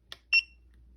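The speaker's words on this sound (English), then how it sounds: "it will go ahead and give you a beep that it's connected" A GUTA tire pressure monitoring sensor beeping to confirm it has connected: a soft click followed by a single short, sharp electronic beep, alone in a quiet room.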